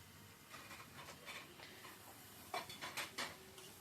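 Spiced chicken being stirred and sautéed in a pot, with a steady low sizzle under repeated scraping strokes of a spoon against the metal, growing into sharper clinks near the end.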